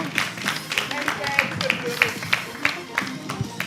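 An audience at a televised contest applauds the jury's favourite contestant, steady rhythmic clapping with distinct regular beats, heard alongside crowd murmur and talking.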